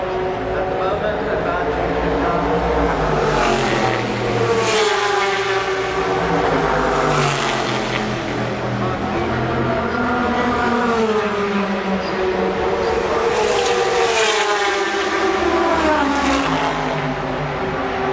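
Porsche and Aston Martin race cars at the 2013 24 Hours of Le Mans, with engines rising and falling in pitch as they pass and accelerate, while race commentary continues over them.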